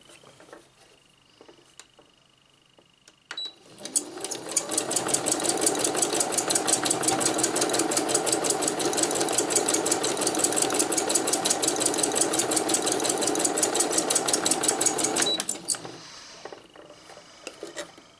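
A sewing machine stitches free motion embroidery on a 3D textile piece with wire, running in a steady, fast, close whirring rattle for about twelve seconds after a quiet start, then stopping.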